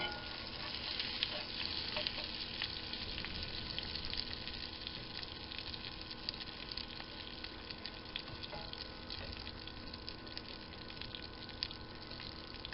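Liver coated in plain flour sizzles as it fries in a pan, a steady, close crackle that runs unbroken for the whole stretch with no voices.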